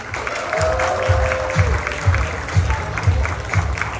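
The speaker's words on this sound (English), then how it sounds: "Let's give one big round of applause to Lars, Jaden, Kyle, Zachary, and Chloe," Applause for graduates at a home graduation party, clapping heard under a steady rhythmic thumping beat of background music, with a brief tonal note early on.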